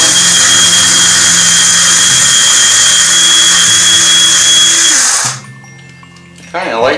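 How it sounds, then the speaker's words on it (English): An electric coffee bean grinder runs loudly and close, a steady high whirring buzz for about five seconds before cutting off, followed by a quiet pause and a short spoken voice. "Okay, let's try the coffee bean grinder."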